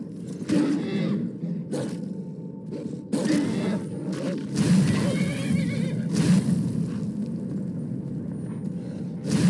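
A horse neighs in Skyrim, with repeated whinnying bursts over a steady low rumble of hooves and ambience, fairly loud and close with no talk.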